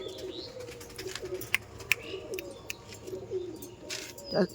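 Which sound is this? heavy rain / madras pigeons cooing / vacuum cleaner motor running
madras pigeons cooing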